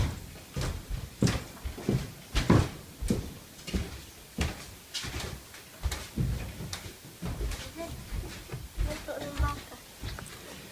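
Repeated knocks and thumps of a back door opening and closing inside a newly self-built house, sharp irregular impacts at close range with voices talking in between.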